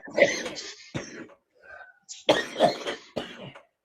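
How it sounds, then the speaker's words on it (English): Several harsh, chesty coughs close by, in short bursts with brief pauses between them, with some throat clearing mixed in. "Who's that coughing like?"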